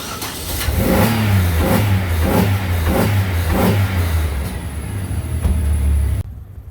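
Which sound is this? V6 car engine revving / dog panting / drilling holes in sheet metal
V6 car engine revving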